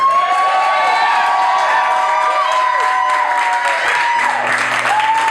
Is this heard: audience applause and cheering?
yes